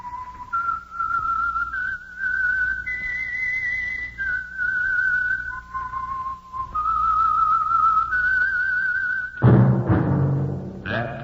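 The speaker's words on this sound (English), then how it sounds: "That whistle is your signal for the Signal Oil program, The Whistler." The whistled theme of the 1947 radio drama The Whistler: a clear, melodic tune with sustained notes rising and falling, followed near the end by a brief burst of orchestral music.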